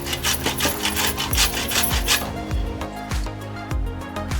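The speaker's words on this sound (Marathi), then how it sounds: "ते मी मगाशी खोबरं किसायला घेतलं होतं ना, 1 किलो खोबरं आहे." Dried coconut is grated by hand in a home kitchen, with repeated rasping strokes at a steady rhythm, close and clear with no talking.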